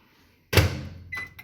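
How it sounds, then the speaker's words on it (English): A Panasonic inverter microwave door swings shut with a single close thunk, followed a moment later by a short higher click as the latch locks. "Resume, and it will lock the door."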